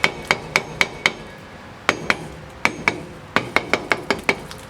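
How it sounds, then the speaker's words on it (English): Sharp metallic hammer taps on the wheel hub of a 1998 Honda Accord during wheel bearing removal, a dozen ringing strikes in uneven clusters, close and loud with short decays between blows. "Give her a few taps with a hammer."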